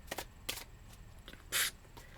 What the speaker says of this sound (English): These cards are impossible to shuffle.